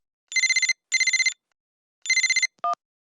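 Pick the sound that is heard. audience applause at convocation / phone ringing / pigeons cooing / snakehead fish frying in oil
phone ringing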